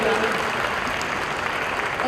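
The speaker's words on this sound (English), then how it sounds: "Big round of applause." Brief burst of audience applause at a fitness discussion event, a short steady wash of clapping.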